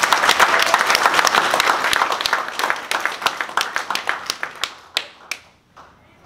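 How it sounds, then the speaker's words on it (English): A convention audience applauds after a keynote, loud close clapping that starts dense and thins into scattered individual claps before dying out, with faint voices underneath. "I believe that you all deserve a stirring round of applause"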